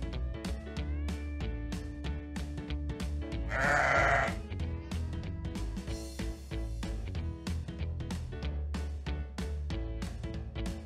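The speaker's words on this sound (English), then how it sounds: "It's a sheep!" A sheep gives one short bleat over bright, bouncy children's game music. The call is clear and close, and the music plays on around it.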